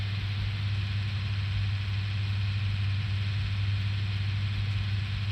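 A tractor engine from the farming game Farming Simulator 19 drones at a steady low idle, a constant hum with no change in pitch or rhythm throughout.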